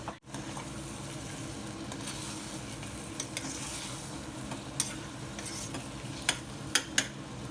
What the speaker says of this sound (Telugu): ఇప్పుడు ఇలా ఒకసారి ఇదంతా బాగా మిక్స్ చేసుకొని 1 నిమిషం పాటు ఫ్రై అవనిద్దాము.